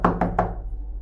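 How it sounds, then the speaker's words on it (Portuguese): Three evenly spaced, hollow knocks on a door, close and firm, each fading out quickly with a low hum underneath. "De repente ouvimos uma batida na porta."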